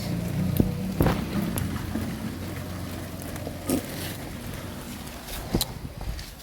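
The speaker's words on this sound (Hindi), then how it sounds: "आज बारिश बहुत ज़्यादा है एंड लिटरली में बारिश आ रही है" Heavy rain falling outdoors before dawn, a steady broadband wash with a low rumble beneath and a few sharper drops or knocks standing out, no talking.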